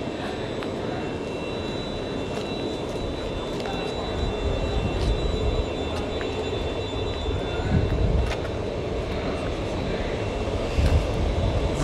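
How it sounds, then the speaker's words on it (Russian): A Burner 3000 waste incinerator running in Orsk while burning film, cardboard and biological waste, giving a steady, loud, broadband roar with a deep rumble throughout, like a large engine or burner. "Запускаем наше оборудование Burner 3000. Все в процессе, отходы уже закинули, идет процесс сжигания."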